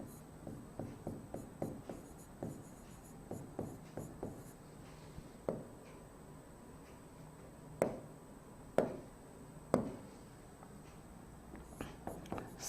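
Chalk or marker writing an organic chemistry example on a board: a series of short scratchy taps and strokes in uneven clusters, with a few louder sharp strikes midway, close and fairly quiet, with no talking.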